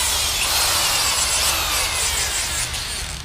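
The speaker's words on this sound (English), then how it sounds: "I want to drill a pilot hole." A power drill bores a pilot hole into a socket with a loud, steady, close-up grinding whine that holds for several seconds before easing slightly at the end.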